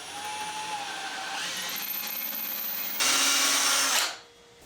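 A power drill whirs steadily close by as it drives screws into a wooden arch bookshelf, with a rising pitch toward the end and then a sharp stop.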